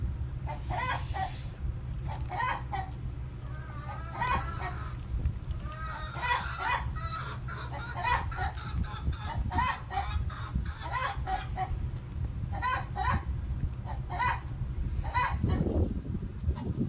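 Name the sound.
chickens clucking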